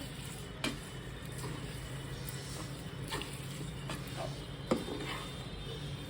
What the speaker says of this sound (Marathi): आता आपण तळलेला लसूण याच्यामध्ये टाकूया आणि मिक्स करून घेऊया पूर्ण लोणचं